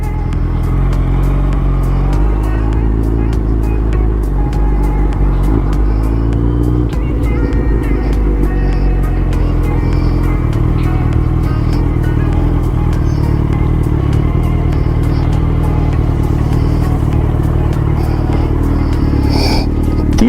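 A Gen 3 Hayabusa, a ZX10R and an R3 sit idling after a ride, their engines giving a deep, continuous close rumble with faint ticks and clatter over the steady throb.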